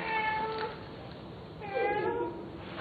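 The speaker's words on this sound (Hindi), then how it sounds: "ये वही शाम वाली बिल्ली है" A cat meows twice, two drawn-out wavering cries separated by a brief pause, close and clear against a quiet background.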